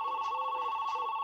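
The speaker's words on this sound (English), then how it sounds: "answer the phone" A telephone rings with a steady electronic trill, loud and close, alone with no talking over it.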